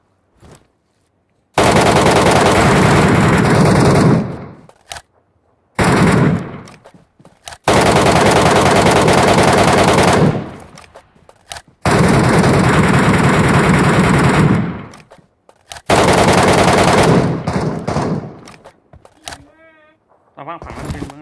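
Loud, sustained bursts of automatic gunfire from enemies in the shooter game MetroRoyale, several long volleys separated by short pauses, with a player talking between them.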